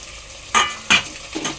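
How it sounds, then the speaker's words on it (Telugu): Ginger-garlic paste stirred into mutton in a sizzling pan: two sharp scraping strokes followed by a softer third, over a faint frying hiss, close and clear. "మగ్గిపోయింది ఇదిగో మాంసం అల్లం వెల్లిపాయ పేస్ట్ కలిపేసేస్తున్నాను"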